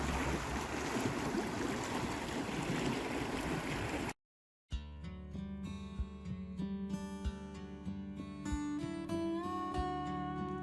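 A river in Jasper National Park rushes with a steady, broadband roar for a few seconds, then cuts out abruptly and gives way to music.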